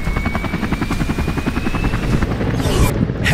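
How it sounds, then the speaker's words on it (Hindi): A rescue helicopter hovers over a flooded river during a disaster-response operation, its rotor thudding steadily and loudly from start to finish, with an engine whine layered over the chopping beat. "हेलीकॉप्टर भी वक्त पर आ चुका है।"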